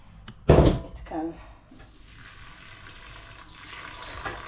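Water is poured into a pot of dried maize set to soak for githeri: a loud close splash comes first, then a shorter second pour, fading into a quiet trickle and soft room hum.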